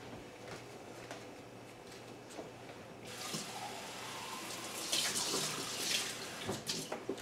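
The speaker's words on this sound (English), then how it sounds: "I'm going to add a little bit of water to it." Water poured into a can of tomato soup in a home kitchen, a faint trickle that swells into a louder splashing stream partway through, close and alone.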